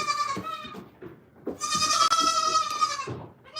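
Dairy goats in a farm pen bleat loudly and close by, long wavering calls with one sustained cry in the middle, overlapping with softer bleats and barn rustle, no talk.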